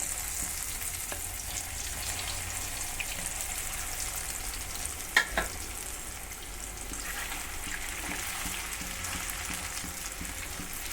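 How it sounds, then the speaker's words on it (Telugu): Amaranth leaves go into hot oil in a home kitchen pan for a curry, giving a steady close sizzle of frying throughout with a couple of brief clinks of stirring. "ఇప్పుడు నూనె కాగిందండి, కొంచెం నూనెలో వేద్దాము."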